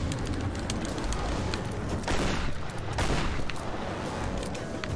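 Gunfire in the video game Tomb Raider 2013 comes as a dense, continuous barrage of shots and booms, loud and close, filling the whole stretch without talk.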